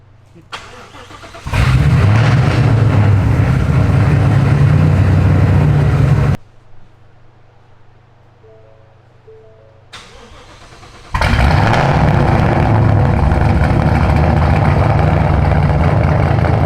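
Ford Mustang with a 7.3 Godzilla V8 roaring through a full, very loud exhaust in two long bursts, with a quieter idle-like lull and faint sounds between them.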